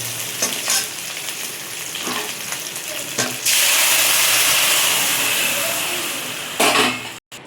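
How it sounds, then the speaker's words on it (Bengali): Tempering spices and a hilsa fish head hit hot oil, and a loud sudden sizzle bursts out midway after quieter stirring and clinks, then fades slightly. "এবার ফোড়ন দিয়ে মাছের মাথা দিয়ে একসঙ্গে আমি বসিয়ে দেবো।"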